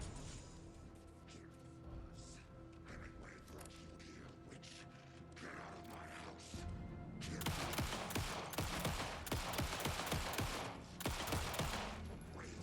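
Gunfire in the video game Alan Wake 2: scattered single shots and mechanical clicks at first, then a dense, rapid volley of loud bangs in the second half, with occasional speech.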